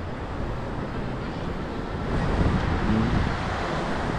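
Ocean surf at a Mexican beach washes in as a continuous broad roar mixed with wind buffeting the microphone, swelling slightly toward the end.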